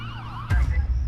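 Wailing ambulance siren rising and falling at the scene of a shooting, moderately loud and fairly close, with a sudden low thump and rumble partway through; no voices.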